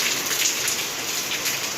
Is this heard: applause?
no